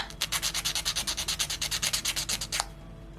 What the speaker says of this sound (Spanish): Vamos a lijarlo un poco.